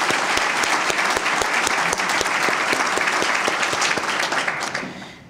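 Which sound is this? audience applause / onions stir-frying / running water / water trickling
audience applause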